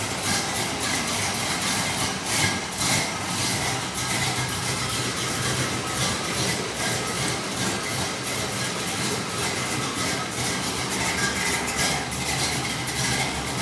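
A 1969 Chevrolet Camaro with a newly fitted exhaust idles outdoors in pouring rain, a continuous low engine rumble with a regular pulsing beat under a constant hiss of rainfall.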